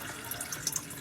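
Water from a nugget ice maker is poured out into a sink, a soft, faint trickle with a few small splashes and drips, heard alone without talk.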